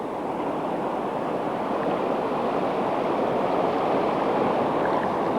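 Turbulent river rapids where salmon run downstream, a loud, steady roar of rushing whitewater filling the whole clip without a break, close and unvarying.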